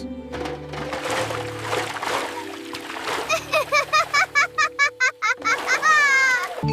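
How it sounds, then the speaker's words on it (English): Playful water splashes from cartoon alligators in a children's phonics song, a burst of splatter sounds mixed with sung and spoken kid-friendly vocals and bright bouncy music. "Alligators! Alligators! Splash, splash!"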